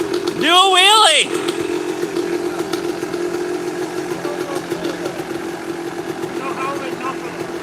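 Kawasaki KX250 two-stroke dirt bike with a new front tire, its engine buzzing steadily nearby with a brief rising howl of revs at the start, then settling into a droning, slightly fluttering run, with voices faintly underneath.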